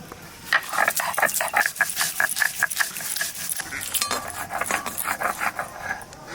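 Cumin and mustard seed are ground into a spice paste on a stone, giving rhythmic scraping strokes with clinks, loud and close, continuing in irregular pulses.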